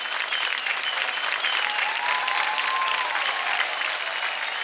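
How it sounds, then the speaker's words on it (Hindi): Loud, dense applause from a studio audience on a televised Indian dance competition show, a continuous roar of clapping with a little cheering, sustained evenly throughout. "जोर से ताली।"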